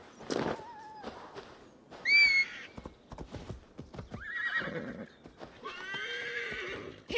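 Horse in Assassin's Creed Valhalla, with clip-clop hoofbeats under several loud, clear neighs and whinnies spread across the stretch, close and prominent.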